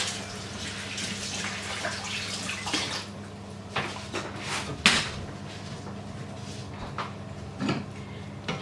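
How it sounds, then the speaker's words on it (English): Hands are washed under a running kitchen tap while making a seafood boil sauce, a steady wash of water with a few cupboard or sink knocks and clatters, fairly close and with no talking. "I'm gonna wash my hands off"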